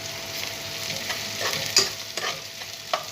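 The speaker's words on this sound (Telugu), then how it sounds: "నెక్స్ట్ దీంట్లో రొయ్యలు వేసుకోవాలి" Prawns frying with onions in a pan make a continuous close sizzle, with a few sharp stirring clicks.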